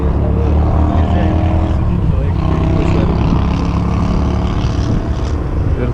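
Helicopters fly over Kazan, their rotors making a loud, steady, throbbing drone that fills the air without a break for several seconds, with crowd noise beneath it.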